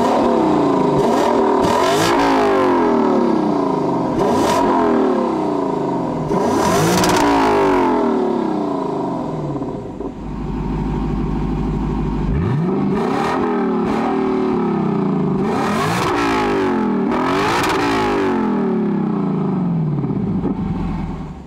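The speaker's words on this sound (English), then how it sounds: "let's fire up the V8 and hear how it sounds" The 5-liter V8 of a 2021 Lexus LC 500 Convertible revs repeatedly, rising and falling in loud bursts with a deep exhaust rumble between them, close and continuous.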